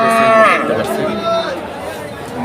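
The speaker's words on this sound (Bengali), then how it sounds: "এই যে দেখতে পাচ্ছেন কয়েকটা গরু" Large cattle at a crowded Kalampur haat before Qurbani, one animal letting out a loud, drawn-out moo close by while voices chatter in the background.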